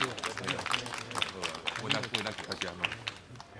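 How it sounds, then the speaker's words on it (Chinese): Scattered applause and claps greet an award presenter at a spring-ox festival press event, heard under ongoing talk by a speaker. "掌声欢迎"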